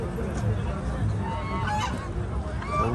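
Geese honk repeatedly and close at a pigeon market in Aziziyah where ducks are also sold, loud overlapping calls over a crowd murmur, with some talking nearby.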